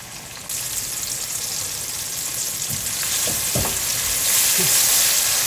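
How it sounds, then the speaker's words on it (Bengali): Onions frying in a pan for a taro and hilsa curry, a steady close sizzle with a few stirring scrapes and clinks, growing slightly louder toward the end. "পেঁয়াজটা ভাজা হয়ে গেছে"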